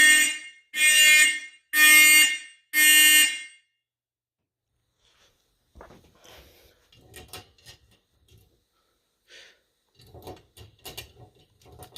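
A vintage Simplex fire alarm sounds during a walk test with four loud, regular horn blasts up close, then cuts off into silence followed by faint clicks, taps and handling noises.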